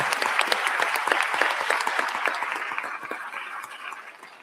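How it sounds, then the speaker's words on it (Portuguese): Sustained applause at a formal honorary citizenship ceremony in Brasília, dense steady clapping from a crowd that gradually thins toward the end. "Uma salva de palmas para toda a sua equipe"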